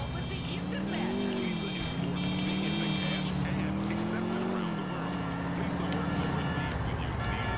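Car chase traffic in Grand Theft Auto IV, with a revving engine whose pitch rises and falls continuously, tire noise and busy street traffic filling the scene at a steady, loud level.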